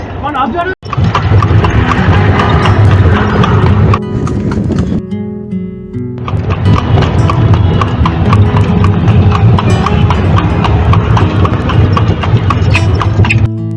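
Horse hooves clip-clop in a steady, close rhythm as the horse pulls a tanga carriage through Mysore. Voices talk over the hoofbeats, with a brief pause in the clatter midway.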